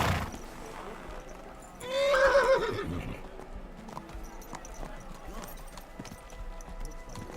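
In the medieval game Kingdom Come: Deliverance II, a horse lets out a clear, loud whinny amid the quiet clip-clop of hooves, with faint ambient noise around it.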